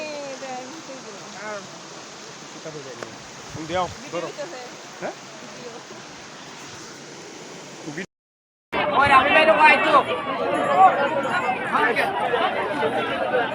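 River water rushing at Jaflong, a steady broadband roar that sits under close conversation at first, cuts out briefly, then returns louder and nearer alongside continued talking.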